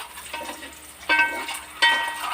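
Ingredients for a mild biryani frying and being stirred in a pan, a steady soft sizzle with two louder bursts of crackling as food is moved, close up with no talk.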